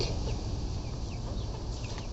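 Backyard hens cluck softly in a steady low murmur over outdoor background noise, with faint, scattered calls and no speech.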